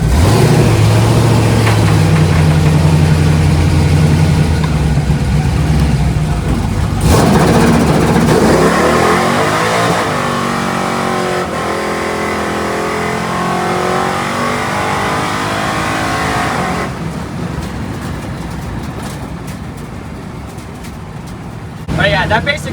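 A Pontiac Firebird accelerates hard with its tires spinning. The engine roars loud and close, rising then holding steady for a long stretch before settling, and the clip ends with a brief burst of noise.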